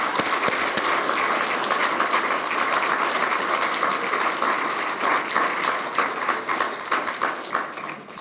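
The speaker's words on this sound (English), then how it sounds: "So once again, a big round of applause for Ready," An audience at a Global Challenges Scholars evening applauds a student team, sustained close clapping filling the whole stretch with scattered sharper individual claps, no voices over it.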